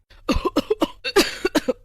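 A rapid string of harsh coughs from an old woman in a cartoon, about eight bursts in quick succession, close and loud with no talking.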